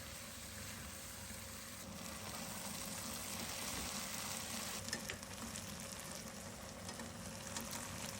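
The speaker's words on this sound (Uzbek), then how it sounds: "yana ozgina qovuramiz." Vegetables frying with a little flour in a pan for Uyghur mampar, a steady, close crackling sizzle with brief stirring scrapes partway through.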